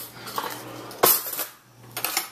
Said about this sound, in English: I'm gonna get myself a spoon.